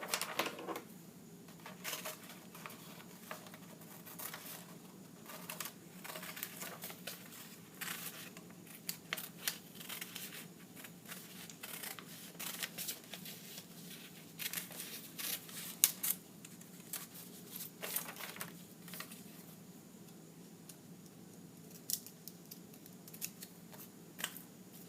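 Scissors snip repeatedly through paper, cutting out hand-drawn bushes marked with squiggly and straight lines; quiet, close crisp cuts arrive in irregular bursts over a steady low room hum, with no talking.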